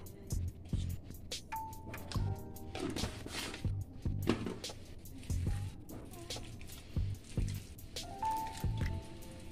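Hands knead and squish a wet mixture of mashed raw banana with chilli powder for kofta, giving irregular soft squelches and sticky slaps close by, with a voice talking at times.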